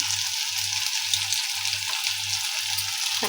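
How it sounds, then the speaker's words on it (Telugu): Tomato and onion fry in hot oil with ginger paste and chilli powder, a loud continuous sizzle broken by regular, evenly spaced stirring scrapes, about six in a row, with no voices. "టమాటో ఆనియన్ ఇవి బాగా ఫ్రై అయ్యాయండి"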